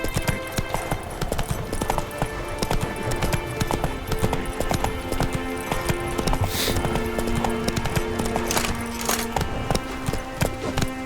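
A horse gallops in The Witcher 3 with steady, rapid clip-clop hoofbeats running throughout, close and continuous, over a faint ambient bed.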